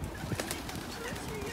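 Pigeons cooing at a busy bird feeder, soft low coos mixed with faint rustling and a few sharper bird sounds in a steady outdoor background.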